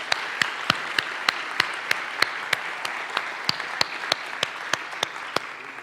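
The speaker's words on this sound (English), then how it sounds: "Can we give him a round of applause," An audience applauds after a talk on dedication, giving a steady round of clapping with individual sharp claps standing out against the dense wash of hands, held at an even level throughout.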